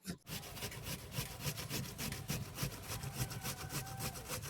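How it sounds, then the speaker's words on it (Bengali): Banana stem is grated by hand on a rasp-like grater to strip away its fibres, giving a continuous rhythmic scraping, stroke after stroke, close and steady with no talking. "এই যে থোড় ঘষতে ঘষতে থোড়ে যে আঁশ থাকে, সেই আঁশটা কত সুন্দর আলাদা হয়ে যাইছে"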